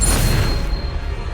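A Bombarda spell blast from the Hogwarts Legacy video game, a deep, rumbling boom that stays loud and low for about a second and a half before tailing off.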